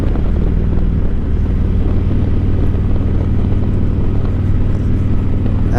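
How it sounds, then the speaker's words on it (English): A 2020 Harley-Davidson Road King with aftermarket exhaust pipes rumbles steadily, a loud, deep, bassy drone that holds constant throughout, mixed with wind rush and no speech. "you can hear that the pipes are definitely louder than the stock pipes. It's a nice bassy rumble."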